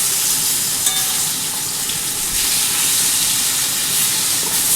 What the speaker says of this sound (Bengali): একইভাবে আমি আরও তিনটে মাছ আমি ভেজে নেব